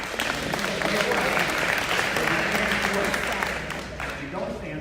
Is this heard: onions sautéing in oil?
no